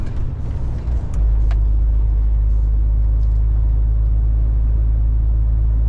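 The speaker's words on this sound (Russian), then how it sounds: "Тормозим." A vehicle braking on a road over a mountain pass: a short burst of hissing and squealing gives way to a loud, continuous low rumble of the slowing vehicle.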